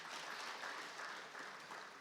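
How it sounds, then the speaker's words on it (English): Audience at an agriculture conference in Africa claps faintly and steadily, a soft, distant patter of many hands with no voices over it. "Please clap if you want to."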